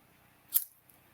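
A single crisp snip as scissors trim a strip of cardstock for a greeting card, one short sharp cut in an otherwise quiet room.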